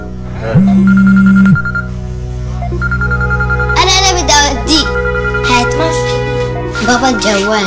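A mobile phone rings indoors in a home with a short, loud electronic tone burst, followed by children's and adults' voices chattering over the background.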